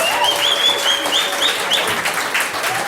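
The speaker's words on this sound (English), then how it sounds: "A big applause for the people backstage." Sustained applause from a large television studio audience, loud and continuous, with a few whistles rising above the clapping.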